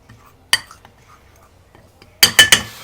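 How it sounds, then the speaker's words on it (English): A utensil mixes flour, salt and pepper in a bowl that may be too small, giving a soft scrape early on and then a quick run of three sharp clinks against the bowl near the end, with no talking. "we're just going to mix up our flour, salt, and pepper mix"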